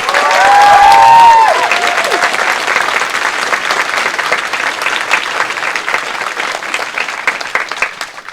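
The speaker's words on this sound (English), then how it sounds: "So one big round of applause for Cindy as well, please." Closing-ceremony audience at the Furcation 2019 event bursts into loud, sustained applause with some cheering, a whistle rising early, then thinning into steady scattered clapping.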